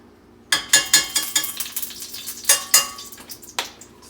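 Vegetables frying in a tablespoon of cooking oil in a hot pan for a Korean beef stir fry: sharp, close sputtering bursts and clattering stirs come in quick irregular pulses above a quiet background.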